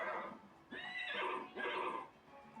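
A horse neighs in The Sims video game, a Colorado Ranger breed, with a short whinny followed by two longer, loud and close neighs, with no talking over them.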